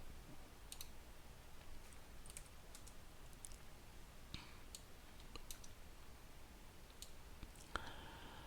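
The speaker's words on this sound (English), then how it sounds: "I'm going to have to type this out manually" A computer keyboard is typed on manually in scattered, faint clicks and short bursts of keystrokes over a low steady background hum, with no talk.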